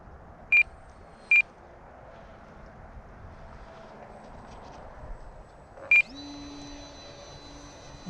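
Three short, high electronic beeps from an RC transmitter timer sound at spaced intervals over a faint steady hum, followed by a rising whine.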